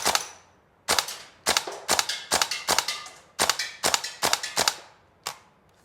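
Tokyo Marui AKM gas blowback airsoft rifle firing a string of sharp, loud close shots, single and in quick pairs, each a crisp crack with metallic clack of the blowback action, no voices.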